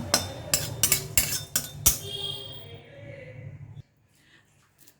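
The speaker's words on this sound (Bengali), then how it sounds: "প্রথমে ছোট এলাচটা আমি হালকা একটু গরম কড়াইতে একটু ভালোভাবে নেড়ে নেব" Small cardamom pods being stirred in a hot, dry wok: a quick run of sharp metallic clinks and scrapes from a utensil against the pan for about two seconds, then a fading rattle and near silence.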